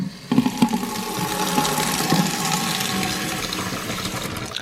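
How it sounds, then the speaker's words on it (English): Water from a tap gushes into a Tupperware bowl in a kitchen sink, starting with a few splashes and then a steady, loud rushing flow with no speech. "I'm gonna take my Tupperware bowl and I'm gonna run some water in it."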